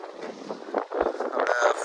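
Strong seashore wind buffets the microphone in uneven, rumbling gusts that rise and fall throughout.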